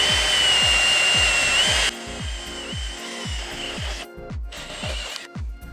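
Power drill boring a pilot hole into a trailer frame for scissor jacks, a whining motor with regular rhythmic thumps as the bit bites, loud and close, then winding down in short bursts.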